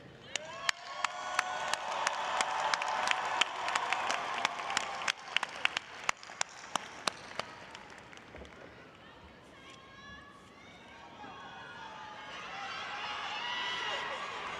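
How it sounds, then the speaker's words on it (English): A commencement audience at New York City College of Technology applauds its faculty with dense, sustained clapping and scattered sharp claps that fade into murmuring crowd noise and some voices toward the end. "through your applause, express your gratitude for all they have done to see you to this day"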